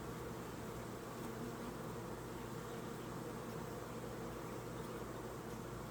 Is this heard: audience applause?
no